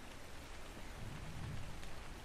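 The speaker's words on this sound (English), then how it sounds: "I ain't gonna complain about no rain" Steady rain falls in the survival video game ARK Survival Ascended, a dense, even hiss of drops on surfaces that holds at a moderate level throughout with no voices.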